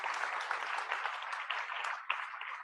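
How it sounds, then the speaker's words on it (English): Audience applause at a lecture on Rembrandt as a printmaker, a dense steady round of clapping that keeps going without voices over it. "we need to give a big round of applause to Morton Toby"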